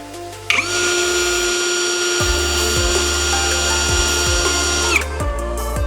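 A GRAND DA-20/13UBL Pro cordless drill-driver spins up at first speed and runs as a steady, close motor whine for several seconds, with a faint rhythmic ticking underneath, then winds down.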